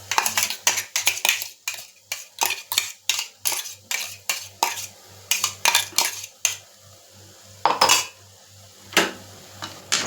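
A spoon scrapes and clinks against a metal pan, stirring in a fine paste of three small ground tomatoes in a home kitchen; the rhythmic, close strokes repeat steadily with no talking.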